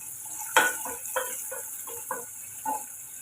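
Chopped onions and chili sautéing in a pan, with a soft steady sizzle and a few sharp scraping stirs of a spatula, close and fairly quiet.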